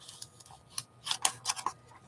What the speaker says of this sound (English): I think we can get the rest of this with the scissors here.